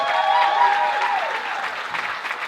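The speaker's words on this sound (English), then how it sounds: "we need to give these people a round of applause." Applause from a room of guests at a catered speech event, sustained clapping with a tonal voice-like sound sliding through it early on, gradually easing in loudness.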